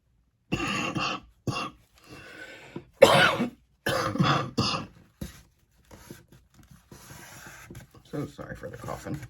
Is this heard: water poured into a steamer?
no